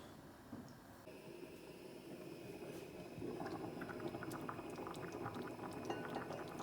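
Cabbage rolls boiling in a pot, a quiet, steady bubbling simmer that grows slightly louder partway through, with small pops breaking the surface.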